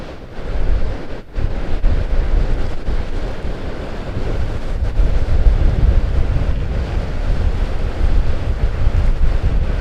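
Surf crashing and strong wind buffeting the microphone during a 4x4 beach run at low tide, loud and continuous, with a rumble of vehicle movement beneath.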